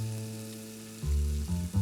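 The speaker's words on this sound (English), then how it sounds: "we're getting a beautiful sizzle on these" Food sizzles and crackles in a hot pan, a soft steady fry that swells louder in bursts toward the end.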